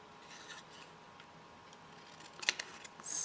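Scissors snipping paper while making craft tags, a few quiet cuts followed by a couple of sharper close snips near the end, heard alone in a quiet room.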